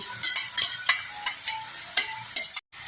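A spatula scrapes and stirs carrot and cabbage through fried tomato in a pan, giving sharp, irregular strokes over a soft sizzle, close up with no talking.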